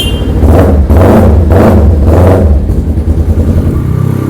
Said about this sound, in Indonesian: Mesin halus, knalpot bergelegar banget ya.